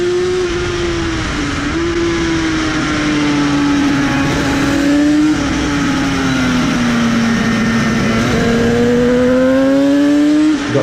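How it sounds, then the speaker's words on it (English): A Craven TZ racing motorcycle laps Anglesey circuit, its two-stroke engine wailing loud and continuous up close, pitch rising and falling through gear changes and corners. "Got to grips riding the Craven TZ round Anglesey, better in the qualifying, learning by following Mike Cooper"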